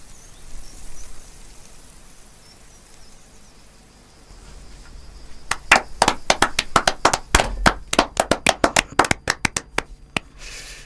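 An audience claps after a told story, starting as scattered, uneven, somewhat hesitant claps that grow into a brief burst of clear individual hand claps before fading, with no one talking over it.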